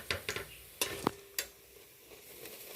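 Crisp pumpkin flower pakoras lifted from hot frying oil with a slotted strainer give a few sharp clicks and scrapes against the metal, followed by a soft sizzle, close by with no speech.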